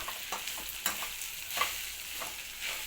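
Close, crackling fry in a pan with repeated scraping and knocking strokes of a spoon stirring, a few sharp clicks standing out over a steady sizzle.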